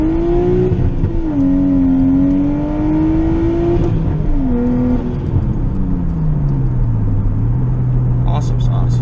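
Nissan R32 Skyline engine pulling hard from inside the car, pitch climbing through the gears with drops at each shift, then settling into a lower steady drone, loud and continuous; a voice speaks over it at times.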